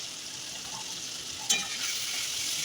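A paste of ground ginger, cumin and turmeric sizzles steadily in a pan, a continuous even hiss broken once by a single clink of a spoon, with no voices.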